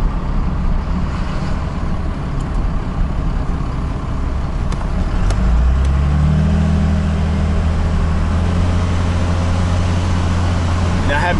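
A Ford F250 with a swapped-in Cummins diesel and automatic transmission, its engine droning loudly and close, the low rumble dropping and settling into a lower tone midway as the transmission shifts.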